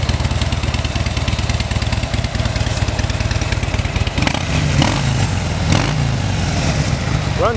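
A 2013 Harley-Davidson Dyna Super Glide Custom with about 3,000 miles idles close by in a steady, loping rumble, with a slight clatter and a few louder blips partway through.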